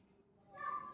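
A pet cat that comes daily asking for food gives a single short meow, quiet and close, rising toward the end of a brief moment.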